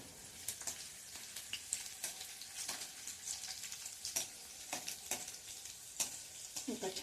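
Two dried red chilies, broken into pieces, fry in hot oil for a tempering for chitranna rice. Close, continuous sizzling is broken by sharp crackles and pops as the pan is stirred.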